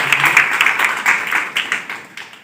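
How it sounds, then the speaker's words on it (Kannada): Brief, modest clapping from an audience at a training program inauguration, honoring the man who sang the opening prayer song, with scattered individual claps pulsing unevenly over a couple of seconds. "ಶ್ರೀ ರಾಜ್ಕುಮಾರ್ PLB ಅವರಿಗೆ ಜೋರಾಗಿ ಚಪ್ಪಾಳೆ ಮುಖಾಂತರ"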